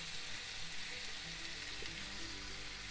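Olive oil sizzles steadily in a pan while fish soup is being made, a constant close hiss of frying with no talking.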